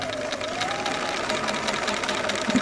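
A Bernina 930 sewing machine stitching pattern 18, a steady, fast mechanical whir with a rapid, even needle clatter, close by and alone without talking.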